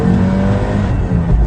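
A race car's engine pulls hard out of the final corner of a lap, a loud sustained roar from on board with a slight dip and recovery near the end and no talking.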